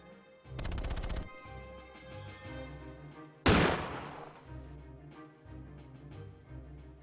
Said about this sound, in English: They fire their weapons respectively, but both miss.